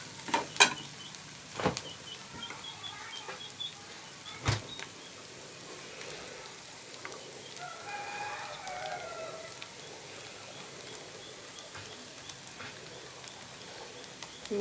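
Dry coconut, garlic and chili powder stirred and fried in a pan for egg garlic karam: a soft, steady sizzle with a few sharp spoon knocks against the pan early on, fairly quiet and close.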